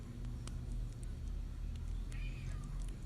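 A cat meows at a door, faint and brief, against a low steady background hum.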